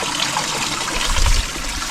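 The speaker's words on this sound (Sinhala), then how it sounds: "දිය පාරක් මේ මෙතනදී හම්බ වෙනවා" A small stream trickles on a misty hill in Sri Lanka, giving a steady close rush and gurgle of flowing water with no voices.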